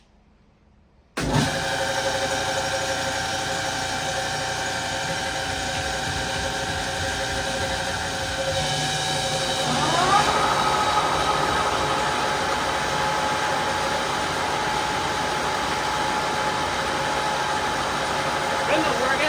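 A Lucas No. 31 horizontal boring mill switches on with a sudden thump after quiet, then settles into a steady motor hum with mechanical whine, rising slightly as the spindle and friction clutch spin up.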